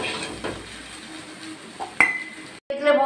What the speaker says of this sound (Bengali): এখন একটা গামলিতে তুলে নিচ্ছি।